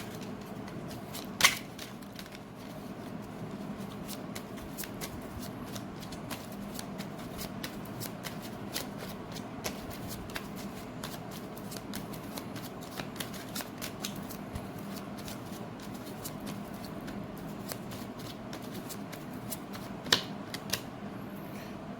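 Tarot cards are shuffled by hand for a long stretch, a soft, rapid papery riffling and flicking close by at low volume, with a few sharper snaps along the way.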